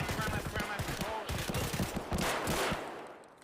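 Rapid automatic gunfire in the video game Escape from Tarkov, dense bursts of shots rattling almost continuously before tapering off, with a voice talking faintly underneath.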